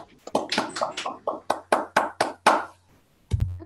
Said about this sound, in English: maybe I would ask everyone to unmute themselves first so that we can thank Anthea and clap